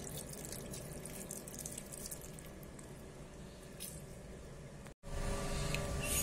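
Tap water running into a sink while a toothbrush is rinsed, a continuous faint splashing stream with small wet squishes, briefly cut off before resuming.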